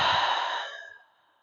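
A slow breath exhaled out through the mouth during a yoga session, one soft airy whoosh that starts fairly strong and fades away over about a second, close and alone.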